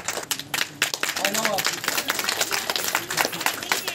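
Crowd at an INLD political event applauding Sunaina Chautala's arrival, with steady, busy clapping under loud crowd chatter and a brief voice rising through the middle.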